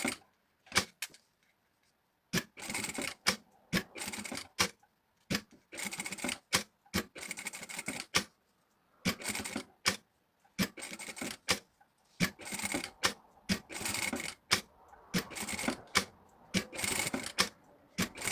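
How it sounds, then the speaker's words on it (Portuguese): Sewing machine stitching over a fold of fabric in short bursts of rapid mechanical whirring and clatter, separated by brief pauses, close and fairly quiet. "Vamos passar uma costura mesmo em cima da costura."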